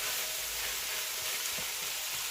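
Onions and peppers simmer on medium heat in a pot, giving a soft, even frying sizzle that stays quiet and constant throughout.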